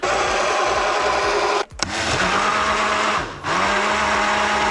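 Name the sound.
blender running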